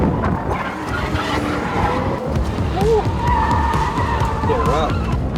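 A Nissan Z drifts with a continuous roaring engine and long squealing tire skids rising and bending in pitch, loud and close, with voices partly audible beneath the engine noise.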